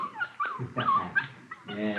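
A small puppy whimpering and yipping in a series of short, high, plaintive cries close by, with a voice mixed in among them.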